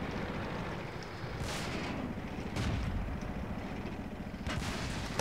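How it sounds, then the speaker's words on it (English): Heavy gunfire and shell impacts from World of Tanks strike a player's tank, booming bursts over a constant rumbling battlefield din, with a couple of louder hits standing out. "The hell is shooting me back there?"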